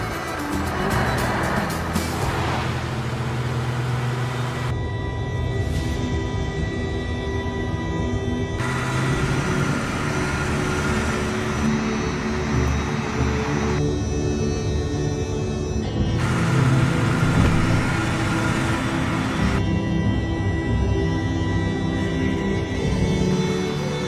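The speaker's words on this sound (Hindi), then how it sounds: "स्टार्ट करनी पड़ती है गाड़ी चलाने के लिए।" A vehicle engine starts and is driven off, a steady motor roar filling the whole stretch with fluctuating intensity, loud and close, with no talk over it.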